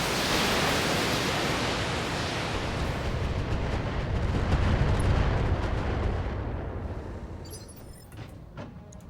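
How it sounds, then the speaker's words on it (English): A Catapult mech in the BattleTech game fires a salvo of missiles: a loud, dense roaring rush of launches that rumbles and trails off, followed by faint clicks. "Alright, catapult. Alright, we're gonna lob missiles at on Shadowhawk. Firing!"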